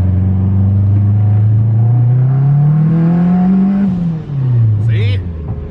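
An all-wheel-drive Honda Civic fitted with a turbo and twin-disc clutch accelerating hard in second gear, the engine note climbing steadily in pitch to a peak, then dropping at the shift, heard loud from inside the car.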